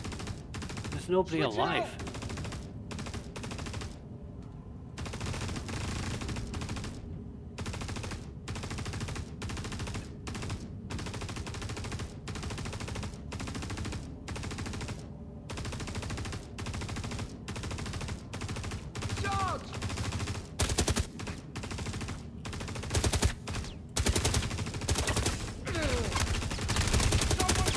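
Rapid bursts of gunfire in the video game Star Citizen, repeated sharp cracks and fusillades spread through a long stretch of steady background rumble, with occasional speech.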